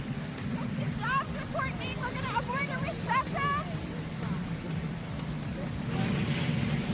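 A helicopter's steady low rotor rumble droning nearby throughout, with a voice talking briefly over it.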